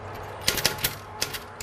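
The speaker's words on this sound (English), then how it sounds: "Danny Duncan types away on a typewriter" A 74-year-old man types on a stiff manual typewriter, a close cluster of sharp mechanical key strikes in an uneven rhythm, fairly loud with no talk.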